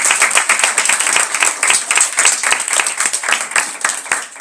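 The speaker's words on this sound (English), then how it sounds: "Big clap for her." Small audience at a spiritual gathering clapping for a young storyteller, a steady patter of many hands close by, continuous and fairly loud with no speech over it.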